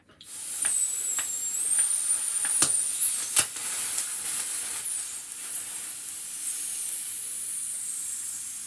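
Gas from a CO2 canister on a homemade 3D-printed launcher leaks out in a sustained, sharp hiss starting abruptly and staying close and steady, punctuated by a few faint clicks, easing slightly toward the end.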